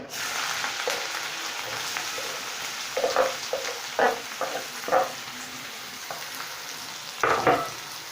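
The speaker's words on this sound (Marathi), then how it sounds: "आणि चांगला त्याला तेलात भाजून घ्यायचंय" Chopped onion and curry leaves frying in oil in a kadhai, with a steady low sizzle broken by several scraping stirs of a spoon, the loudest near the end, heard close with no talking.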